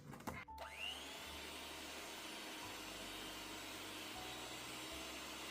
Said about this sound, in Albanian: Vazhdojmë tani i përzijem me mikser për disa minuta, derisa vezët dhe sheqeri të shkumuan mirë.